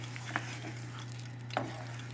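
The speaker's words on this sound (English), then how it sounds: "look how nice and slow simmering it's doing" Roast chicken with mushrooms and vegetables simmers slowly in a pot, a soft continuous bubbling hiss under a low steady hum, with two brief stirring scrapes breaking through.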